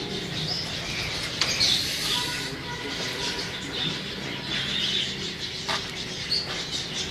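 Teddy pigeons kept in a fancier's loft coo softly and chirp intermittently close by over a steady background hiss, with a few sharper clicks scattered through.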